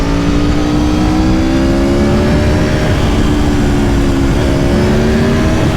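Exhaust of a 2020 Aprilia Tuono V4 RR motorcycle on the road, a loud continuous engine roar with rising revs and a rushing wind over it, no speech.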